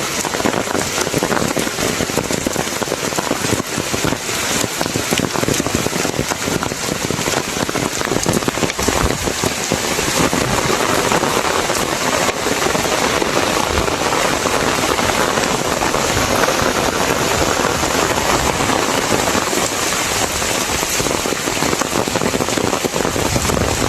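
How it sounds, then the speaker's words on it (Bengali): Heavy rain pours steadily in a village, a loud, dense, unbroken hiss of drops drumming on surfaces nearby, with no voices and no letup throughout. "কি লেভেলের বৃষ্টি নামতেছে সকাল থেকে"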